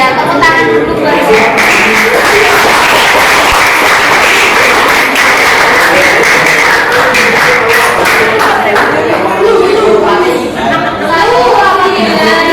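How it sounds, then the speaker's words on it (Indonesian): A class of students in a school lesson claps together: loud, continuous clapping mixed with lively chatter and voices filling the room throughout. "tepuk tangan dulu guys"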